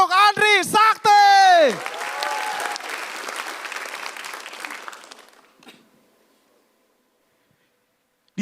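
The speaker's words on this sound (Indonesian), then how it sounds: "Silakan beri tepuk tangan untuk Andri Sakti." A studio audience at a stand-up comedy competition show breaks into applause for a comedian, coming in under a brief burst of loud voice and music, holding as a dense wash, then fading out to near silence.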